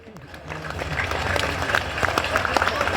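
An audience at a crowded religious darbar at Bageshwar Dham claps, building from quiet into dense, lively applause with a murmur of crowd voices and some speech mixed in.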